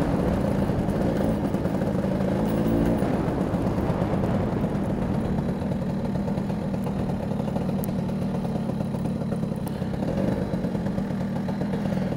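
Vespa GS 150 scooter fitted with a P200E engine riding slowly along a town street, its engine droning steadily and closely throughout with a constant mid-pitched buzz and slight clatter.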